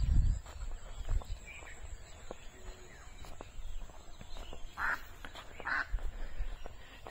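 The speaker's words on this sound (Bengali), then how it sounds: "এই যে এখানে হচ্ছে গিয়ে হাঁস, পাতি হাঁস জমিতে এসে খাদ্য সন্ধানে নিমগ্ন আছে।" Domestic ducks foraging in a village field on a foggy winter day, giving a couple of short, soft quacks at a moderate distance over quiet outdoor ambience with light rustling and footstep-like sounds.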